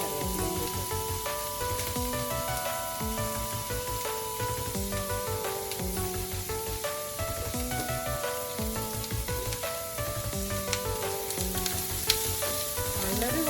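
Chopped large onion and curry leaves fry in a small amount of oil for a Malabar biryani, giving a steady, close sizzle throughout, overlaid with background music.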